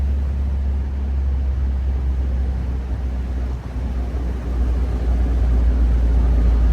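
A 1964 MG B roadster's engine drones steadily while driving, a loud low rumble filling the whole stretch with a brief dip midway, no voices over it.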